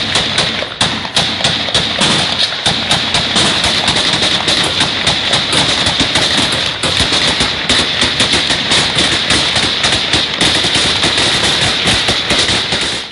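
Syrian army soldiers fire at a sniper in battle: dense, continuous rapid gunfire, loud and close, with overlapping bursts and thuds throughout.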